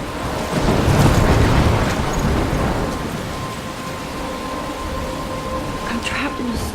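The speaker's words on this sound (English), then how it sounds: "I'm trapped in a storm?" Storm in the video game Life is Strange: heavy rain hisses steadily while a deep thunder rumble swells early and fades, and the downpour stays loud throughout.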